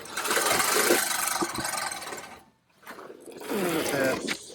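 A Scotts Classic 20-inch reel mower being pushed through grass, its spinning blades giving a close, steady whirring, clicking rattle that dips into a brief pause partway through and then resumes.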